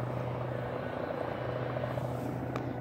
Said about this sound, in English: And here comes the second helicopter of the day.